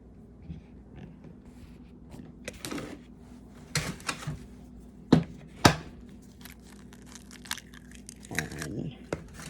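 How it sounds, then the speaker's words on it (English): Three eggs cracked one after another into blondie batter, giving a few sharp taps and cracks mixed with kitchen handling noise, while a voice talks softly in between. "So let's put these 3 eggs in."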